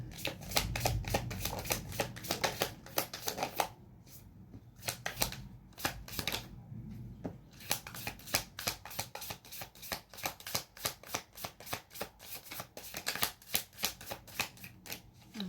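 A deck of tarot cards is shuffled close up, repeated crisp riffling bursts and rapid flicking in quick rhythmic runs with a brief pause, with no talking.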